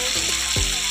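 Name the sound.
spices frying in oil in a pan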